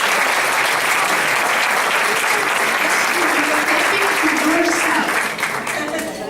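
Applause from a large audience at a Lisbon sales event, a dense sustained roar of many hands clapping that stays loud and even for several seconds before easing slightly at the end, with a voice faintly over it.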